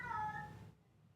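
A cat meows once, a short loud tonal cry close by that fades out after about half a second over a low background hum.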